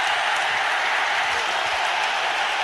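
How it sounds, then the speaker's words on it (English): Packed cricket stadium crowd at Eden Gardens roaring after a bowler knocks the middle stump out during the 1993 Hero Cup final, India vs West Indies; a loud, dense, sustained wall of cheering that never lets up. "The middle stump is out of the ground, and just listen to the crowd."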